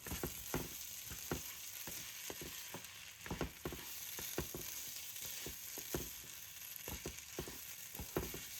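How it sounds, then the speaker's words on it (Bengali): Dry rice grains crackle and tick in a hot pan, with irregular scraping clicks from steady stirring over a soft background hiss. "চালগুলোকে ততক্ষণ ভাজতে হবে যতক্ষণ না এর মধ্যে থেকে একটা সুঘ্রাণ বের হয়"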